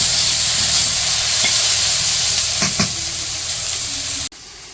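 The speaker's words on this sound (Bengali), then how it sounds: "তো মাছ ভাজা নামিয়ে করলা ভাজি বসাইছি" Bitter gourd fries in a pan on a village kitchen stove, a loud, steady sizzle with a few stirring knocks, ending abruptly.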